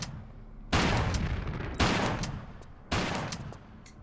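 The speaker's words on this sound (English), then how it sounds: "this is one reasoning for the shotgun" Three loud shotgun blasts from the Tomb Raider game fire at roughly one-second intervals, each a sharp broadband crack that rings out and decays slowly before the next.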